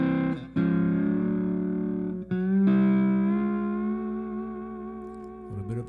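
A lap steel guitar in open G tuning plays a slow, sustained lick of gliding notes with vibrato, ringing close and clear with a brief break partway through.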